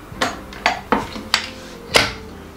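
A metal paddle attachment is fitted onto a planetary stand mixer while making gingerbread, five sharp metallic clicks and clanks at uneven intervals, close and distinct against a quiet background.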